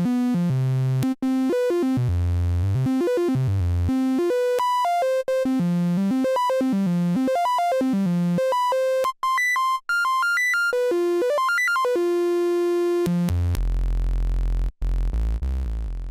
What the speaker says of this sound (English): we have this strange hybrid between a triangle and a sawtooth